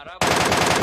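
Sustained automatic gunfire from a recoil-free weapon in PUBG Mobile bursts in loud and close after a short lull, a dense rapid stream of shots that lasts to the end.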